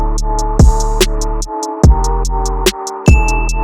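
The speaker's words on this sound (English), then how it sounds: "So let's start off with the hi-hat, which sounds like this" Crisp electronic hi-hat ticks repeat in a steady pattern within a full music mix, over sustained synth chords, bass and periodic heavy kick thumps.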